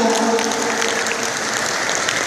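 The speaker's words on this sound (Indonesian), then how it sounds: "Tepuk tangan dong buat juara kedua kita." Applause from a studio audience for the second-place winner at a televised Indonesian competition, a dense, steady clapping that fills the room throughout, loud and close.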